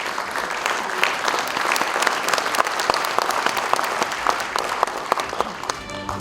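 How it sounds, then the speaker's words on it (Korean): A ceremony crowd gives sustained applause to seven award recipients, with continuous clapping holding at an even level throughout. "공로상을 수상하신 7분께 다시 한번 축하의 박수를 보내주시기 바랍니다"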